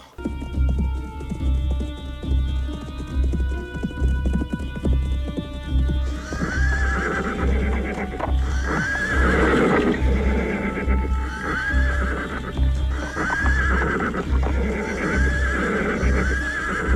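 In an animated Beauty and the Beast film, a horse gives several loud, close whinnies while its hooves clip-clop steadily under a layer of music.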